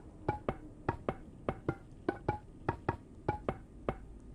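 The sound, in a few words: Minecraft bone blocks being placed, from a video game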